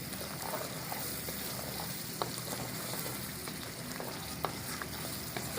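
Goat liver fries with coriander and cumin powder for a smoky kaleji, producing a quiet, steady sizzle with a few soft stirring taps.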